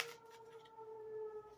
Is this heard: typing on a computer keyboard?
no